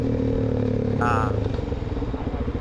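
A motorcycle rumbles steadily on the road, its low engine drone continuous and fairly loud, with a brief higher whine rising over it about a second in.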